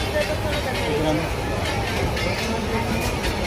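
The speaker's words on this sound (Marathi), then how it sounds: "आता आपली दादरवरनं ट्रेन सुटलेली आहे" A passenger train pulls out of Dadar station on the way to Shirdi, a steady broadband rumble with carriage clatter and crowd babble throughout, while a voice talks over it.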